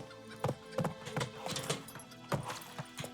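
A horse's hooves clip-clop in the video game The Witcher 3: Wild Hunt, with quick, fairly regular hollow knocks at walking pace, soft and close.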